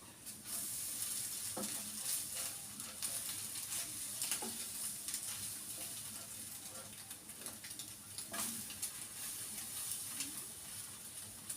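Bombay toast fries in a pan with a steady close sizzle and hiss, broken by a few soft scraping stirs and turning sounds.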